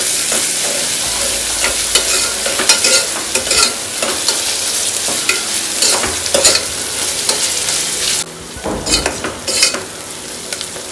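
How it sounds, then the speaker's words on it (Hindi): Onions frying in a pan until translucent for matar pulao, a loud steady sizzle with frequent spoon scrapes and stirring knocks, briefly quieter near the end. "अच्छी तरह से फ्राई करते हैं अनियन को अच्छे ट्रांसपेरेंट हो जाए जब तक हमें फ्राई करना है"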